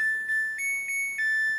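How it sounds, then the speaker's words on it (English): Samsung Ecobubble 8kg front-load washing machine signalling the end of its cycle with a series of about four short, clear electronic beeps in a quiet room. "You can hear the beep"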